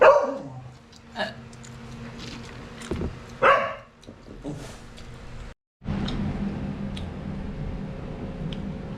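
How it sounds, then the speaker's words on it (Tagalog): A dog barks several times, close and fairly loud, begging for chicken at a Mang Inasal grilled-chicken restaurant, with faint voices and restaurant background noise underneath. "Yung asong mabait, humihingi na naman ng chicken."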